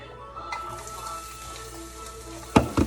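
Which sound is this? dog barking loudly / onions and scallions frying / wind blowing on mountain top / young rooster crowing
onions and scallions frying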